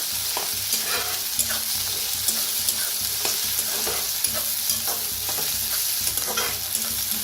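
Chopped onion, spring onion and curry leaves fry in a pan for a Maharashtrian masoor dal dish, a continuous close crackling sizzle with regular scraping strokes of a spoon stirring throughout, no voices.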